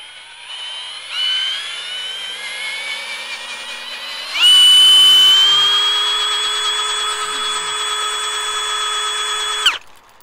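A drill spins up a motorized bicycle wheel gyroscope, first whining at a lower pitch, then jumping to a loud, steady high whine with strong harmonics, ending abruptly with a sharp click near the end.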